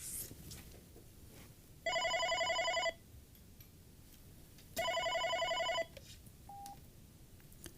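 OpenStage 15 desk phone ringing with an incoming call: two identical electronic trilling ring bursts of about a second each, separated by a pause, close and clear over a quiet room.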